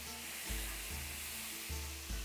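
Oil sizzles and crackles in a pan as about 50 ml is added for frying a spinach and potato roll, a steady close hiss with a few soft stirring bumps and no talk.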